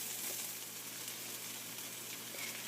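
Sliced onions sizzle as they slowly caramelize in a pan, a soft, steady hiss with faint crackles running evenly through the moment.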